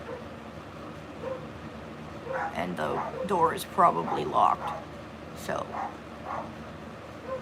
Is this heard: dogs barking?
yes